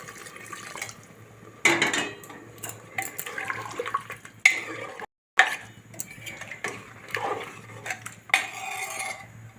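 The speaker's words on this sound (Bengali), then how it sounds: "এই জল গরমটা দিয়ে দিচ্ছি মাংসর মধ্যে" Hot water is poured into mutton in a cooking pot amid clattering metal pot and utensil sounds, with splashy bursts separated by quieter pauses and a brief silent gap midway.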